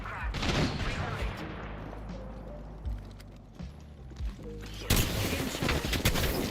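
Gunfire during an Apex Legends firefight, sharp shots and bursts over a continuous rumble, some close and loud, others further off, with heavy impacts near the end.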